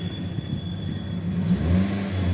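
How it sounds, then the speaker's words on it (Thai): A Toyota Corolla Altis 1.6G engine is revved briefly with the doors mostly shut, a muffled mid-pitched hum that swells and rises in pitch near the end, with no talking. "ก่อนไปดูด้านหน้าเดี๋ยวขอเร่งเครื่องให้ดูนิดนึงก่อน"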